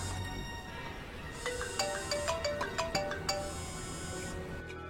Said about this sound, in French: Ah, c'est mon téléphone.